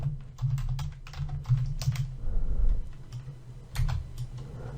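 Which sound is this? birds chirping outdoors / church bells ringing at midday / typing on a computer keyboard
typing on a computer keyboard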